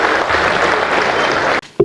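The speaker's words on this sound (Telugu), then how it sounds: "చప్పట్లు కొట్టాలా వద్దా అని కొడుతున్నట్టున్నాడు" Audience applause at an inauguration event in Hyderabad, a dense burst of clapping from a crowd that holds steady and then cuts off abruptly near the end, with a brief voice afterward.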